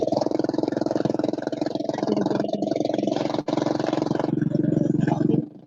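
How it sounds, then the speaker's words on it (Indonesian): A motorcycle engine runs close by with a steady, throbbing drone and brief dips, holding for about five seconds before cutting off abruptly. "Jelas Mak Barika yang terakhir kedengaran suara motor."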